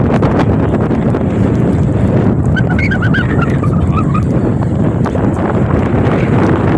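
Strong wind roars across choppy open water during a high wind advisory, a constant loud rush buffeting the microphone with faint higher tones briefly rising through the middle.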